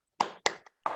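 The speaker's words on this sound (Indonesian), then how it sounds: "ayo kita tepuk semangat ya" Children in a primary school classroom doing the tepuk semangat clapping chant: three quick, sharp bursts of claps with shouted syllables, close and separated by brief silences.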